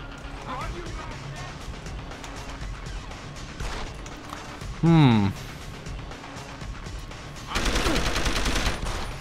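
Gunfire in the video game Deus Ex: Human Revolution, with bursts of shots, a sweeping synthetic effect and a loud crashing blast near the end, heard under a player talking over the game audio.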